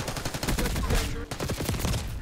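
Dense, rapid gunfire from the Call of Duty Black Ops 6 beta, a loud continuous volley of automatic shots with a short break partway through.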